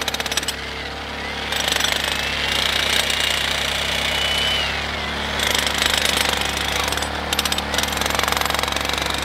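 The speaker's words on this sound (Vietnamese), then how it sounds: "Khoan trước xong mới đục sau chứ đục không cái này đục cái nào được." A jackhammer pounds rock on a steep mountain road construction site, loud rapid hammering in bursts with brief pauses, engine hum underneath and people talking nearby.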